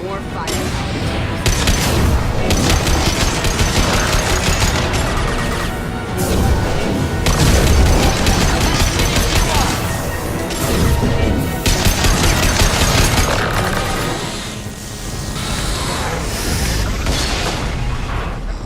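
Heavy weapon fire in the video game Mass Effect 2, a dense, loud, sustained barrage of shots and booming impacts over nearly twenty seconds, with brief lulls and game sounds mixed in.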